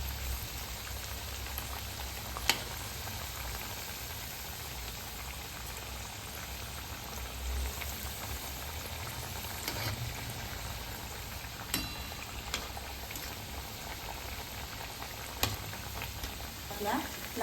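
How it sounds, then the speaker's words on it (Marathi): Cabbage fritters (kobi vadi) deep-frying on low heat, a steady soft crackle and hiss with scattered louder pops, heard alone without talk. "कमी गॅसवरती तळून घ्यायचं आहे. छान अशा क्रिस्पी अशा आपण तळून घेणार आहोत."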